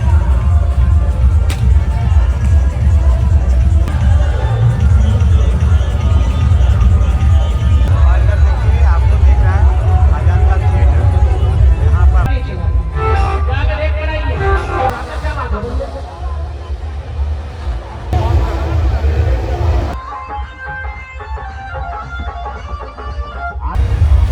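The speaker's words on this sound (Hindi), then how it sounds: "भीड़ बहुत ज़्यादा है, आदमी पर आदमी।" Dense crowd babble at the Rajgir Malmas fair in Bihar, a continuous loud wash of many overlapping voices close around, thinning slightly toward the end with scattered nearer chatter.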